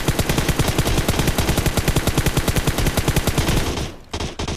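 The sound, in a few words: M4 assault rifle gunfire in video game PUBG Mobile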